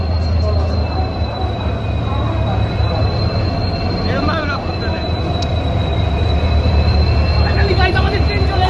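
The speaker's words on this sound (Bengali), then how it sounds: "আমাদের ট্রেন চলে এসছে।" A passenger train pulls into a station with loud, sustained wheel squeal over steady rumbling rail noise, the screech rising and falling across the whole stretch.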